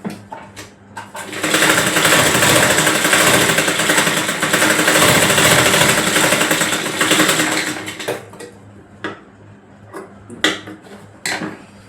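A sewing machine stitches the side seams of a small girl's frock, running loud and close in one long continuous burst of about six seconds, then stopping into scattered clicks and handling knocks.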